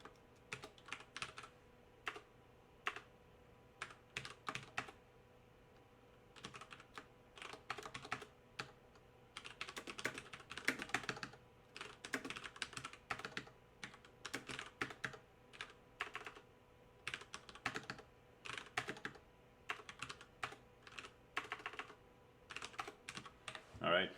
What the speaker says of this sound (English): let's say you type stuff in here